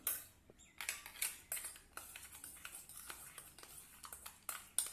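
Ice cubes clinking against glass as two drinks get stirred, giving a quick, close run of light rattling taps and scrapes, faint and steady throughout.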